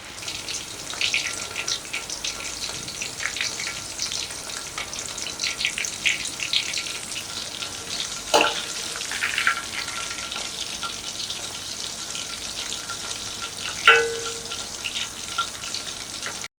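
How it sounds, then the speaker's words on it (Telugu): Chicken pieces deep frying in oil on a low flame for chicken manchurian, a continuous bubbling sizzle with a couple of brief clinks, heard alone at moderate level. "ఈ చికెన్ పీసెస్ని ఫ్రై చేసేటప్పుడు స్టవ్ సిమ్లో పెట్టుకోవాలి."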